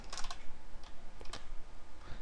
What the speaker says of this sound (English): Notice how when you start typing